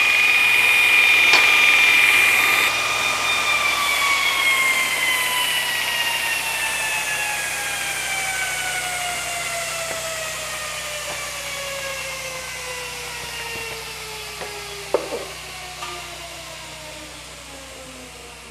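A Vevor 2x82 belt grinder running down after shutoff, its steady high whine gliding lower and fading over many seconds, with a couple of faint clicks near the end and no talking.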